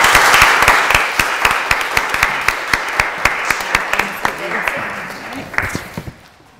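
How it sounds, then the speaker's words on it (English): Audience claps for nursery children at a school graduation ceremony. A dense round of applause runs throughout, with a few sharp, evenly spaced claps standing out close by, then it fades away at the end. "A big round of applause for the children."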